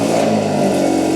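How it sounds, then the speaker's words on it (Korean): A Hyundai Kona fitted with a tuned aftermarket exhaust revs loudly close by, a continuous throaty engine roar with a broad rasp held for the whole short moment, no voices present. "배기 튜닝이 되어 있는 그런 코나였거든요. 배기음이 얼마나 큰지 한번 체크해 볼게요."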